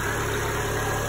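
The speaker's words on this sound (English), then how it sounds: "It was idling at 1500 RPMs." An engine idles at about 1500 RPM in a steady, even drone with a constant low hum, close and alone.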